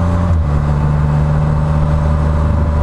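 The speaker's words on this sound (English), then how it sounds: "beautiful day to take a Spyder F3 for a ride" A Can-Am Spyder F3 three-wheeled motorcycle cruises on a warm day, its engine holding a steady, loud, close drone with a brief shift in pitch near the start.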